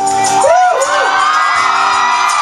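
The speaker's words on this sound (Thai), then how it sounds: "เอาขอเสียงเชียร์ทีมอื่นดีกว่า" A school crowd cheers for a team at an SMA event, a loud burst of whooping and shouting voices, many of them young, with rising and falling yells and a sustained roar behind.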